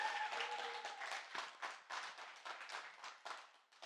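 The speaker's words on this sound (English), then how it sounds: "Can you please give one more round of applause for these amazing human beings?" An audience at a motivational speaking event gives a round of applause for the speakers, a moderately sized burst of clapping that swells and then thins into scattered claps, with no talk.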